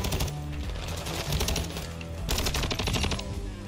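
Rapid automatic gunfire in the video game Call of Duty MW2, several dense bursts of loud, close shots in quick succession, with no talking.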